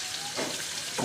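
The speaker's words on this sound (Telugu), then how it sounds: "మరీ బాగా మాడిపోకుండా దోరగా వేయించుకోండి." Nalleru, the adamant creeper, frying in a pan for chutney, giving a steady close sizzle and crackle with faint stirring scrapes across a short stretch.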